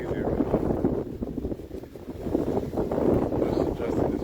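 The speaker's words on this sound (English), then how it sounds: "Boy, it's windy." Wind buffeting a microphone outdoors during a snowy walk in Philadelphia, a low, rumbling roar that swells and dips in irregular gusts, close and steady throughout.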